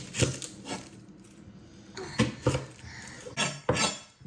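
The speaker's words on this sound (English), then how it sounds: "So first thing I'm going to do is chop up an onion." Knife strikes on a cutting board while chopping an onion, a few uneven chops with gaps between, close and fairly sharp, with faint kitchen clatter.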